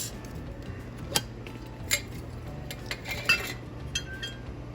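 A spoon clinks faintly against a bowl while vanilla extract is stirred into yellow squash nut bread batter, giving a few soft, irregular ticks over quiet room noise.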